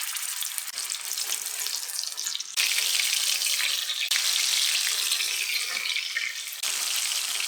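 Bombil (Bombay duck) fish frying in hot oil in a pan, a loud, steady broadband sizzle that jumps in intensity as pieces go in, continuous and close with no speech.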